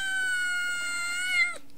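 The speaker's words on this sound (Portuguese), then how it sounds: "Essa é minha gata." A single drawn-out cat meow, close and clear, holding a steady tone for over a second before breaking off, with no talk over it.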